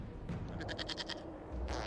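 Goat bleating in the fantasy game Dragon Age: Inquisition, a short wavering cry with a few quick pulses, heard moderately close over a steady low game ambience.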